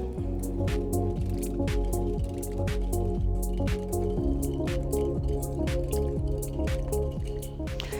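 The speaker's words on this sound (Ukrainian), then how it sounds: "до вершкового масла я додаю 50 грамів цукрової пудри і перемішую" Butter being stirred together with powdered sugar in a bowl, giving a steady run of soft, wet squishing and sticky smacking strokes close up, repeating rhythmically with no speech.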